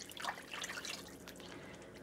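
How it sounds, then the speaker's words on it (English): Two cups of juice are poured into a jar in a kitchen, giving a quiet, close splash and trickle of liquid at the start that fades into a soft background. "I'm going to put this 2 cups of juice in this jar and shake it around"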